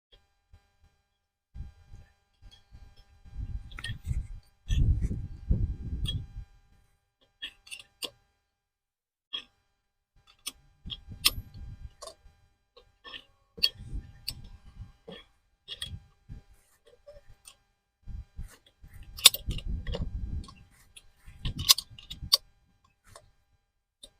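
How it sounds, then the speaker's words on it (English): A new nut is tightened by hand onto a Febco 765-1 backflow preventer cover, giving quiet intermittent ticks and clicks in short bursts with low knocking thuds between them and no talking. "I have a new nut that they gave us, and we will just tighten this up"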